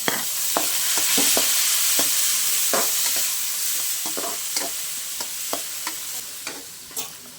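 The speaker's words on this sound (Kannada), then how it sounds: "ಈಗ ಸ್ವಲ್ಪ ಟೊಮೆಟೊ ಹಾಕೋತಿದ್ದೀನಿ" Tomato goes into a hot frying pan for village-style brinjal and potato sambar, giving a continuous loud sizzle with repeated scraping stirs of a spoon against the pan, close up and without speech.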